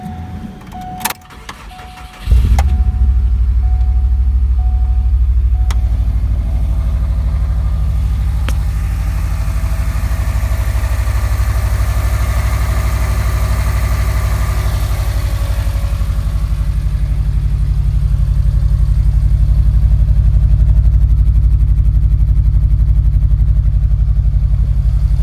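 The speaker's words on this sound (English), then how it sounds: "I'll just start the car so you can get a sense of what it sounds like" A 2001 Subaru Impreza 2.5RS with aftermarket headers cranks briefly, catches and settles into a steady, loud low idle that rumbles evenly for over twenty seconds, close to the car with no talking.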